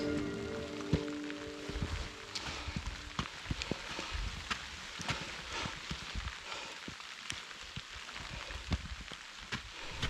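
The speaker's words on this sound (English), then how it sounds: "and soon rain starts falling" Rain falls during a heavy thunderstorm on an alpine hiking trail, a soft, faint patter of scattered drops hitting nearby surfaces, with irregular taps over a quiet hiss and no voices.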